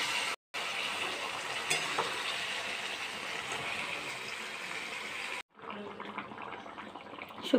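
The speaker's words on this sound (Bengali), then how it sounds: "নেড়েই জল দিয়ে দেবো।" Vegetable curry (shukto) with turmeric sizzles steadily in a pan while being stirred, then a brief cut and a softer, bubbling hiss after water goes in; no talking.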